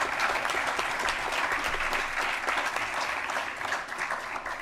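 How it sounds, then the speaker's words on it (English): A board work session audience applauds for a woman, a dense steady round of clapping from a roomful of people that holds strong throughout and eases slightly near the end. "let's give her a round of applause"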